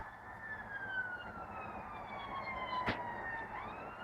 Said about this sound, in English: it's the ambulance coming down